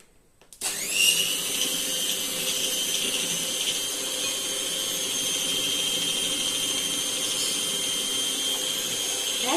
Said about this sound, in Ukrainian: І починаємо перемішувати на невеликих обертах.